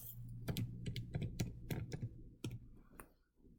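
Fingers tapping calculator buttons to enter an inverse cosine problem, a string of about ten soft, uneven key presses, close and quiet, fading out at the end.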